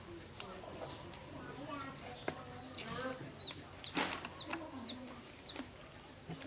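High, thin peeping of small chicks repeats over a noisy background, with a hen clucking low and people talking nearby.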